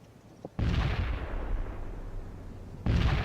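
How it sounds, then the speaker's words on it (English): A mortar barrage in the strategy game World in Conflict, deep booming blasts that roll out into a long rumble, a second heavy impact arriving near the end. "Mortars will fire at the provided coordinates."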